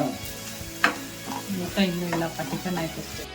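Onions go into a hot pan for sambar and sizzle steadily, with stirring scrapes and a few sharper clatters close by, and a voice comes through faintly underneath.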